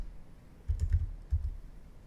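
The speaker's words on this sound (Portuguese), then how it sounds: "aqui no console eu posso digitar, por exemplo," Keystrokes on a computer keyboard typing into a browser console: two short clustered bursts of soft clicks, close and quiet, with no talking.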